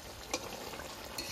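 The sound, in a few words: stirring hilsa fish cooking in mustard sauce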